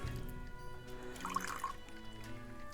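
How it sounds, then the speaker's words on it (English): A chilled alcoholic drink, shaken cold, pours from a container through a filter in a steady liquid trickle with faint dripping at close range. "Give it a pour."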